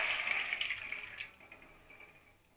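Milk poured into lightly warmed ghee in a pan while making semolina gulab jamun gives a bright, hissing splash that is strongest at first and then fades to a quiet wash.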